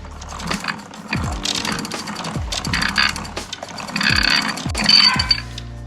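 Shimano Tiagra 130 big-game fishing reel cranked by hand in several bursts, a close, loud mechanical whirring and ratcheting clicks with clinks, separated by brief pauses.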